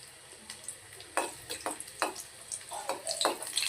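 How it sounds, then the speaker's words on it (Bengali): Chopped garlic frying lightly in hot oil for a spinach dish, a soft steady sizzle punctuated by scattered stirring scrapes and clinks, fairly quiet and close with no talking. "হালকা আছে রসুন কুচিগুলো ভাজবো আমরা।"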